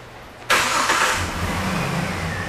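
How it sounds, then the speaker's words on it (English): A car engine cranks and fires up abruptly, then settles into a steady idle; the start is loud and sudden after a quiet moment, heard close by in a workshop during diagnostic testing. "Watch when we start this vehicle up on the update rate."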